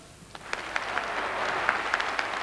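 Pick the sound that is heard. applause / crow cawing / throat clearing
applause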